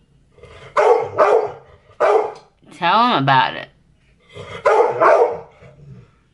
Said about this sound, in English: No idea what he's barking about.